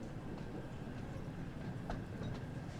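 Steady rumbling rail clatter of a train rolling along in a relaxed train simulator game, continuous and fairly loud throughout the short stretch with no talk over it.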